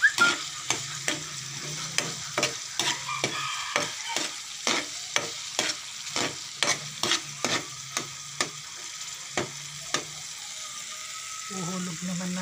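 Tomatoes, onion and garlic sautéing in a frying pan under a steady sizzle, with a spatula scraping and stirring in a quick, regular rhythm of sharp clacks for several seconds, close and clear.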